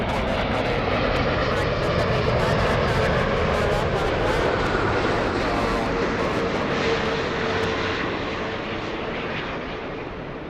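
Delta flight 811 taking off at LAX, a loud, sustained roar of jet engines that rumbles steadily and slowly fades toward the end, with voices talking over it.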